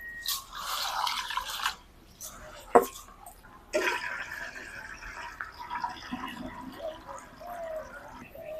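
Rice and lentils are rinsed in water for khichuri, with faint intermittent splashes and drips separated by quiet gaps.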